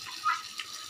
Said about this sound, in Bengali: জল দিয়ে দেবো, এই 1-150 গ্রাম জল দেবো